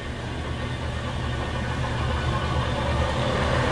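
A spin rinse dryer rotor spinning up during an ST-280 SRD source inspection, a steady whirring motor hum with broadband airflow noise that holds fairly constant and rises slightly in level toward the end.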